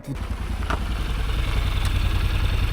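A 700 cc motorcycle's engine rumbles steadily close by, a low, even mechanical drone that carries on alone throughout.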